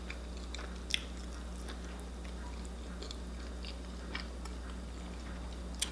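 Chewing vegan pizza close to the mic: soft, faint bites and crunchy mastication sounds recur irregularly over a steady low hum.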